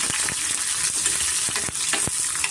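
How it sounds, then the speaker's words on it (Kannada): Green chilies and poppy seeds fry in oil for a hotel-style green mutton sambar, giving a loud, constant sizzle with occasional stirring scrapes and taps. "ಸ್ವಲ್ಪ ನಾವು ಫ್ರೈ ಆದಮೇಲೆ ಇದಕ್ಕೆ ಹಸಿಮೆಣ್ಸಿನ್ಕಾಯಿ ಸೇರಿಸ್ತಾ ಇದ್ದೀವಿ"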